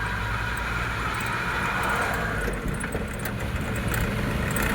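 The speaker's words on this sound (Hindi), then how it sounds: "अपनी गाड़ी का फाइन बेल्ट भी आवाज़ कर रहा है, थोड़ा थोड़ा," A truck engine runs steadily with a worn fan belt adding its noise, a constant low mechanical drone and rumble, close and loud, with no voices.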